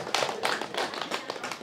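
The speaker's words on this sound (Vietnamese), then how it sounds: "Xin toàn thể quý vị cho một tràng pháo tay chúc mừng cho hai cháu." Guests at a Vietnamese Vu Quy wedding in Cà Mau applaud the couple, a brisk, fairly close patter of many hands clapping in continuous bursts.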